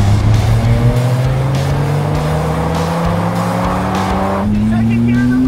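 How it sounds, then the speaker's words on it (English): A Dodge Viper RT/10 accelerates hard in a drag race, its loud engine rising steadily in pitch through a gear, then dropping briefly at a shift before climbing again, close and dominant. "Second gear in the Viper, and that's where the power is."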